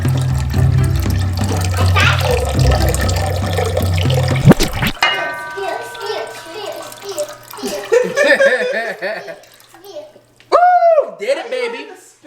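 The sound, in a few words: water running from tap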